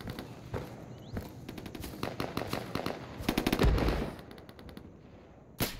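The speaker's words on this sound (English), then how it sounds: "I'm under fire." Rapid automatic gunfire from the tactical shooter game Insurgency, loud bursts and single shots cracking in close succession, with a heavy near blast midway and a final sharp shot at the end.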